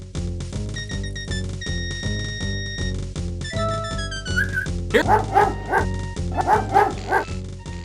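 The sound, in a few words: dog barking while digging at anthill, from King's Quest V video game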